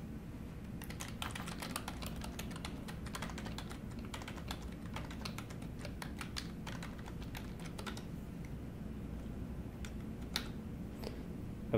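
Rapid clicking of typing on a computer keyboard, a steady close run of keystrokes over a low background hum, with a few sharper taps near the end.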